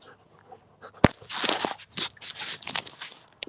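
A puppy named Willow pants and shuffles about close by indoors, with crunchy rustling movements, a sharp knock and scattered soft footsteps.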